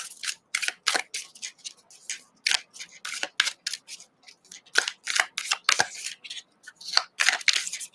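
Tarot cards being shuffled during a live reading, a rapid series of crisp papery riffles and snaps, close and fairly loud, with no talking.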